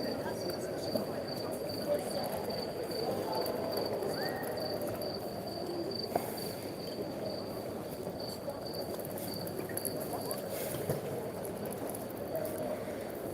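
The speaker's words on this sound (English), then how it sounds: "I don't understand crickets. Why they choose to be in here?" Crickets chirp indoors in a steady high trill that runs throughout, quiet and continuous over a low background murmur.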